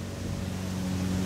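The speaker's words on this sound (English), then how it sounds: "We do have a neighbor mowing right now." A lawn mower running in a neighboring yard beside a backyard koi pond, its engine giving a continuous, even buzzing drone, fairly faint and unbroken, with no talking.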